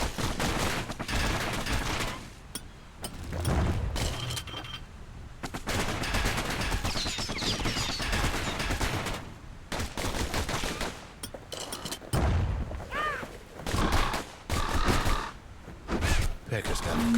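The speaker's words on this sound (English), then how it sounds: "Know what's better than having to sling a pistol in a fight? Having two." Twin pistols fire in the action game Bastion, with rapid bursts of shots that come in waves. Music and other game sounds play underneath, and a narrator's voice appears between the volleys.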